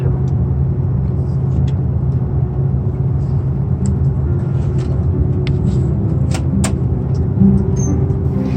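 Steady low engine rumble fills a Sichuan Airlines Airbus A330-300 economy cabin during pushback at Zurich, with faint clicks and rustles on top and no talking.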